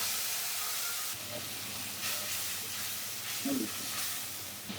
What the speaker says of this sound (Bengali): এর মধ্যে জল দিয়ে মশলাটা কষিয়ে নেবো।